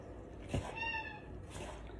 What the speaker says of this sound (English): my cat's just appeared, so you might hear a meow